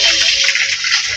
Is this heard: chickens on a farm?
no